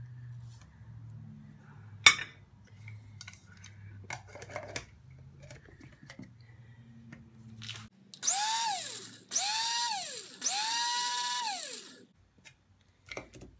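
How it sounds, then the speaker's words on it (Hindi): An electric spice grinder whirs through cumin seeds in three loud, steady bursts close by, each rising then settling in pitch as the seeds break down, with short pauses between runs. "सबसे पहले पीसेंगे हम ज़ीरा।"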